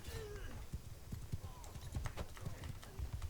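Horses gallop in the video game Mount & Blade II: Bannerlord, with quick rhythmic hoofbeats drumming steadily throughout, fairly faint, under brief voices and a neigh-like call.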